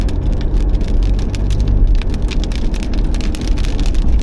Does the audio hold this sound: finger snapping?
no